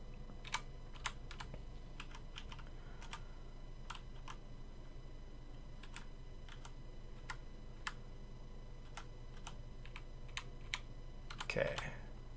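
Sparse, sharp keyboard key presses, spaced irregularly over a steady low hum during a Space Engineers game session, with a slightly louder cluster of clicks near the end.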